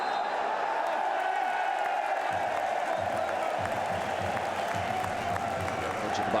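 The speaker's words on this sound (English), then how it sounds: "sarcastic applause, cheers from the Swansea fans" Sarcastic applause and cheering from Swansea City football fans fill a stadium, a steady broad wash of clapping and crowd noise that carries on throughout, with some lower crowd rumble joining partway through.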